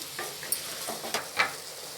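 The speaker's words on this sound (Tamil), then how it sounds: "எல்லாம் ஒன்று சேர்ந்து அப்படியே வதங்கி வரட்டும்" Vegetables sauté in oil with turmeric for veg biryani, a soft, steady sizzle broken by a few light scraping stirs of a spoon against the pan, faint and close with no talk.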